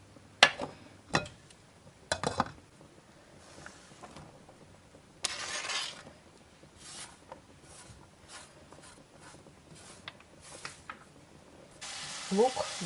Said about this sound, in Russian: Наливаю масло растительное. Так, и будем жарить лук.